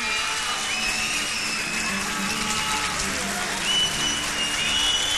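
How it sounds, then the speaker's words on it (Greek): A whole hall of people on their feet at a talent show claps for a performer, a thick, continuous roar of applause that stays loud and even, swelling slightly near the end. "Έχουν σηκωθεί όλοι όρθιοι και χειροκροτάνε."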